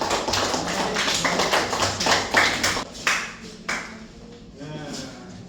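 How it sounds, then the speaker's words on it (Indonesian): Classroom applause for the first student group during a school lesson: a burst of clapping from a group of people, with talk mixed in, fading toward the end. "Tepuk tangan dulu buat kelompok pertama."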